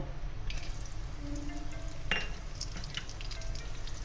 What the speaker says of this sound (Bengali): এবার আমি কাজু কিশমিশটা ভেজে তুলে নেব।